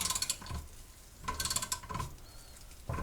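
A ratchet socket wrench clicks in short rapid bursts as it works on a control arm bushing, three close clattering runs separated by brief pauses, with no talking.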